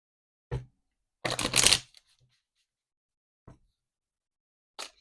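Timing cards for a card reading shuffled by hand, a few separate riffles and flicks, with one longer half-second shuffle standing out in a quiet room.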